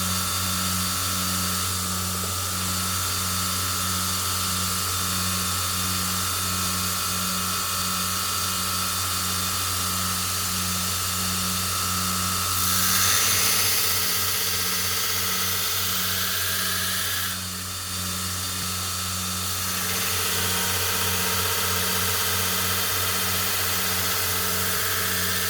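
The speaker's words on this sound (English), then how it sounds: "I use a 60, I believe it's a 60 grit belt to put my first bevels in." A belt grinder with a 60 grit belt grinds bevels into a hunting knife blade. The motor hums steadily with a pulsing whir, and the grinding hiss rises louder in two passes midway. No talking.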